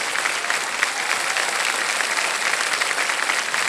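Studio audience applause on the KBC quiz show for a contestant winning 12,50,000 rupees, a dense continuous roar of clapping at steady volume throughout, with no speech on top.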